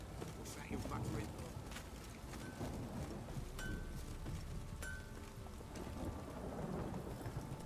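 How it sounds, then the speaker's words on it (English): Steady rain falls with distant rumbling in The Witcher 3 video game, a constant wet hiss with thunder beneath it, heard without talk. "Oh, it's drizzly."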